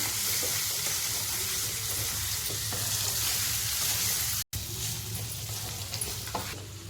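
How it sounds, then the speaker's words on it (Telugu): Hot oil tempering sizzles steadily as it is stirred and scraped into cooked mutton in a pan, a continuous crackling hiss with a brief break. "ఈ విధంగా అయితే తాలింపు వేసేసుకొని కలిపేసుకోవాలి"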